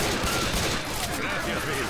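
Rapid bursts of gunfire in the zombie shooter Left 4 Dead 2 sound continuously, loud and dense, with voices mixed in underneath.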